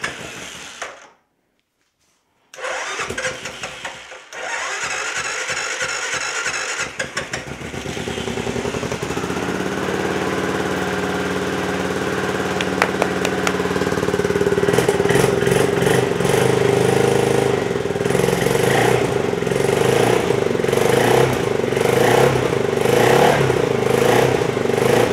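A CFMOTO CF500 engine cranks and fires, then settles into a steady, loud idle close by, with a brief revving surge before the even running continues.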